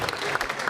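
A studio audience claps in steady, dense applause, loud and close, filling the whole brief moment.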